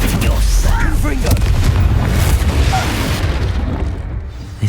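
A Confringo blasting spell explodes in Hogwarts Legacy, a loud booming blast at the start that fades into a rumbling tail, with game voices talking over it.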